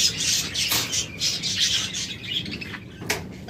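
Caged rainbow budgerigars at a bird market chirping continuously, a busy overlapping twitter of many birds with a few sharper squawks standing out, close and fairly loud with no talk.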